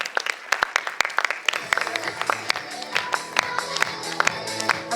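An audience at a children's stage competition claps in scattered bursts over music playing in the hall, the claps uneven and fairly close.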